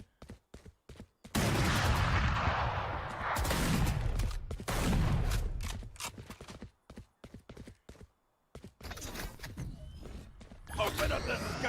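Gunfire in a tactical shooter after a spike plant, loud bursts of shots with short gaps between them, mixed with game effects and announcer voice lines.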